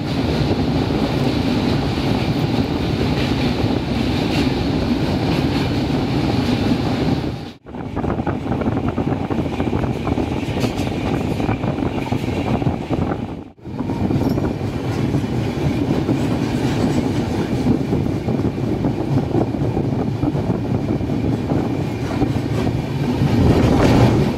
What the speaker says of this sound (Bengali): চোখ খুলে দেখি ট্রেন বর্ধমান ঢুকছে